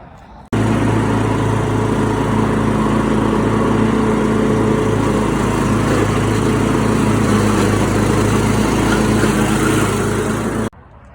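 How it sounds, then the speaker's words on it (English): Lawn mower cutting grass inside a chicken run, its engine droning loud and steady for about ten seconds with no pauses or talk, then abruptly cutting off. "On the mower again."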